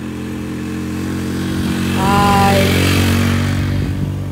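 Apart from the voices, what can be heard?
motorcycle engine climbing a hill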